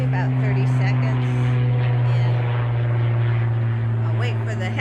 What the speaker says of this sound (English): And I'll wait for the helicopter to go by. It's actually a Cessna 172.